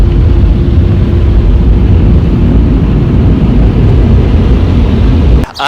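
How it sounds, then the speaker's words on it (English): An automatic car wash runs with a loud, steady roar of blowers and spraying water heard from inside the car. The noise is close and continuous, then cuts off abruptly at the end. "I came up for a car wash."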